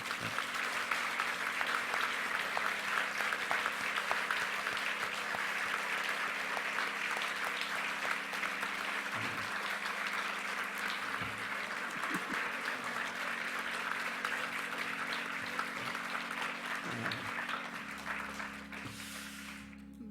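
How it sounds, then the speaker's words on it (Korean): Sustained applause from a church congregation at a worship service installing a senior and new pastor, steady and full for about twenty seconds before tapering slightly, with faint low hum beneath. "사랑의 마음과 위로의 마음으로 박수를 한번 쳐주시면 어떨까요?"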